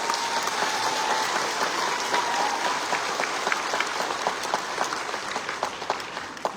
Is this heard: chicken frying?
no